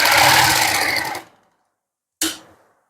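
A sewing machine stitches along buckram on a suit neckline. It runs loud and close for about a second, stops, then gives one short final burst.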